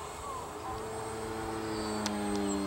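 An RC Boeing 737-400 Depron model airliner with electric ducted fans flies at half throttle, a steady whining drone that slowly grows louder through the stretch with no talk.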